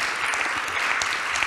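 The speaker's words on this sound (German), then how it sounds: "ich danke für den Applaus, den hat sie verdient" A council meeting room fills with a steady patter of applause from many hands, heard evenly for a second and a half with no voices.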